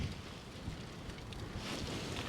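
Strong wind and driving rain lash the mouth of a small cave at a bivvi camp, a steady broadband rush with low gusty rumbling, close and continuous throughout with no voices.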